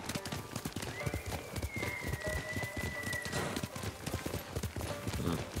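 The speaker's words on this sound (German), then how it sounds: "Wir sind jetzt schon ziemlich weit geritten." A horse ridden in the video game Ghost of Tsushima clip-clops along in a steady, rapid rhythm of hoofbeats, loud and continuous, with a brief whinny-like tone over the game ambience.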